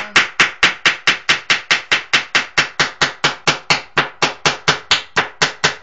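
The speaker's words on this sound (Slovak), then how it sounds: "To fakt je pre umelcov to kladivo." A hammer strikes steadily at about four blows per second, roughly two dozen sharp, loud, evenly spaced impacts with no talking, as it works on furniture.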